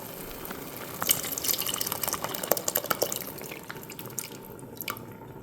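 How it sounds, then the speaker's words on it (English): Beef bouillon and water poured into a soup pot, a close trickling splash with irregular drips and small liquid patters that taper off toward the end, no talk. "now it's time to add the beef bouillon and water"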